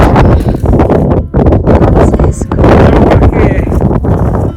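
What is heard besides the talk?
cold wind on a mountain summit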